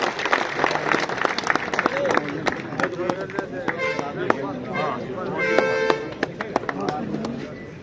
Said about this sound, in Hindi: आप तालियों की गड़गड़ाहट से स्वागत करो, अभिनंदन करो।